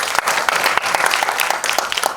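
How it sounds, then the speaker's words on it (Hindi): Applause from an audience at a ghazal album launch event, a dense, steady burst of many hands clapping that fills the room with crisp, overlapping claps. "तालियां।"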